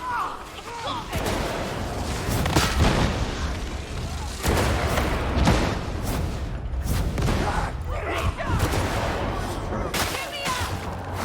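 Sniper gunfire in a dense video game firefight, with repeated sharp shots and booms over continuous battle noise and voices talking throughout.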